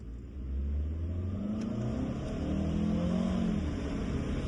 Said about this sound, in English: I'm gonna floor it on an eco mode, I'm gonna do it now here, and I'm also gonna floor it on a sport mode.